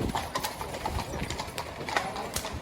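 Tiny horses' hooves clip-clop as a story sound effect, a steady run of light, crisp hoofbeats at a trotting rhythm, moderately close and alone without voices.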